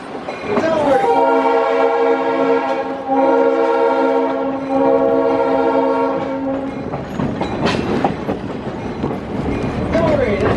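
Santa Cruz Big Trees railroad train on a passenger ride sounds a long, loud multi-tone horn blast close by, then rumbles and clatters along the track, with people talking over it.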